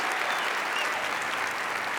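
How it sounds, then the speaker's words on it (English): Dense, steady applause from an awards-ceremony crowd honouring beer-award winners, a continuous wash of clapping hands with no break or pauses. "Give them a round of applause, please"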